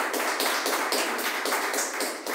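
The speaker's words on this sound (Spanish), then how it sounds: "Siéntese dándole un aplauso." Congregation in a church service applauding together, a dense, steady wash of many hands clapping close by throughout, with no voices over it.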